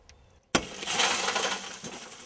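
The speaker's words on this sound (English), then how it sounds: "Breaking glass." Car window glass struck with a spring-loaded center punch: a sharp crack after a quiet moment, then a loud, sustained crunching shatter that tails off.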